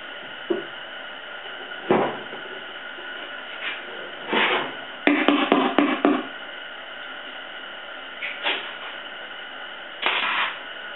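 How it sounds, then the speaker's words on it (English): Brad nailer tacking boards together while a cyclone dust separator bucket is assembled, giving several sharp pneumatic shots, a couple single and one quick burst of rapid firing, over a steady background hum. "I'm going to tack them together with the brad nailer first."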